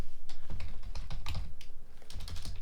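Someone types a track name on a computer keyboard, producing a close, brisk series of uneven key clicks and taps over a low background hum, with no talking.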